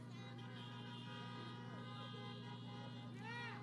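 Car horns honk at a political rally with Rev. Raphael Warnock, as a few toots rise over a steady droning hum, and a louder blast of honking comes near the end.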